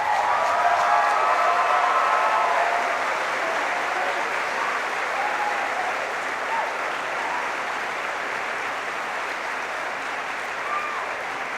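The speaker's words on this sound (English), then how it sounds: "So please stand up, round of applause and big cheer" Graduates at a graduation ceremony applaud and cheer, a dense, steady wash of clapping with a few whoops early on, holding evenly and slowly easing off over about eleven seconds.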